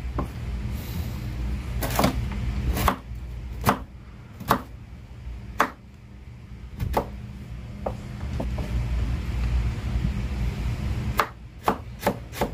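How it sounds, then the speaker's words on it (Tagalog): A knife chops carrots on a cutting board in a home kitchen while preparing lumpiang Shanghai, with a dozen or so sharp, irregular knocks and scraping strokes, close and fairly loud, and no talking. "Hiwain na rin natin itong carrots."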